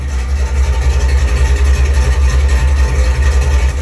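A supercharged Chevrolet Camaro with an aftermarket camshaft idles steadily and loudly, its deep low rumble pulsing evenly throughout with no talking.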